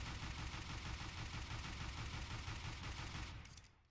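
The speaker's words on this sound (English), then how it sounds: "Here we have the incredibly OP dual Berettas. I have it in dual dragons. It's very nice skin. Let's try to shoot." Dual Berettas fire in a video game as a fast, unbroken spray of shots for about three seconds, then cut off and fade into quiet.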